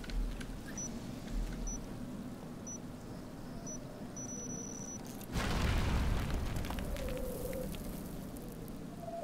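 Explosives blowing up in the video game Black Mesa: one broadband blast about midway through, rising out of quieter game ambience with beeping tones and then trailing off into a long rumbling decay.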